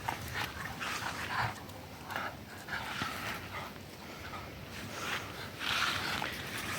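Dogs bark and whimper in bursts over a noisy, rushing background, moderately close and fairly loud.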